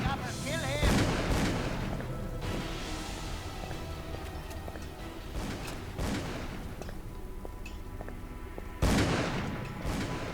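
Gunshots ring out in a Cthulhu horror video game, several loud cracking bursts at irregular moments over a dark, booming ambient backdrop, with the heaviest blasts near the start and the end.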